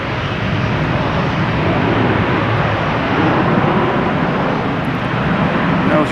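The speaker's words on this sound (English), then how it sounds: "That was United coming in from Newark," Loud, steady jet roar of a United airliner, a Boeing 737 MAX 8 arriving at Boston Logan Airport from Newark, a dense rumble filling the whole stretch at close range.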